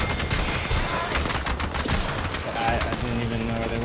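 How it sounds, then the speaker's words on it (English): Bursts of rapid gunfire from an enemy squad in a battle-royale style shooter, dense and sustained across the moment, with faint game tones rising near the end. "That's another squad shooting at us."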